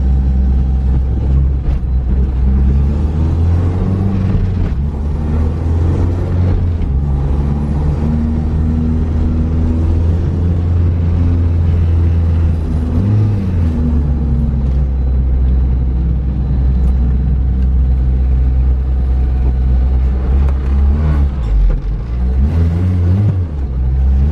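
A K20-swapped Honda EK sedan drives along with a loud, steady engine drone and low rumble, rising and falling with throttle as the limited-slip differential engages, with no talk over it.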